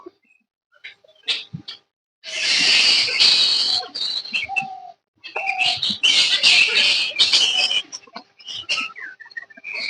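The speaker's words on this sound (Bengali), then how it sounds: "চারিদিকে যে এত পাখি আছে," Many birds call around a quiet temple pond, with dense bursts of chirping and whistling trading off with short isolated calls, close and fairly loud in an otherwise still setting.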